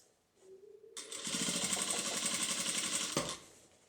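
A sewing machine stitching the seams of a fabric bag: a short hum starts, then a fast, even run of stitches for about two seconds before it stops with a thump.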